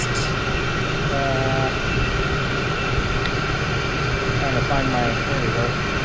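A 5 kW Chinese diesel heater runs on a bench test, giving a steady, continuous mechanical hum and fan drone close by, with a faint bit of talk mixed in.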